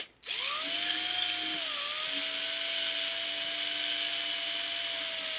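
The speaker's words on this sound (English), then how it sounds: "we'll try to hold the drill steady now and pull the shavings out" An electric drill whirs at a steady high pitch after a brief start-up, pulling plastic shavings from a computer mouse scroll wheel, running continuously with a slight dip in speed partway through.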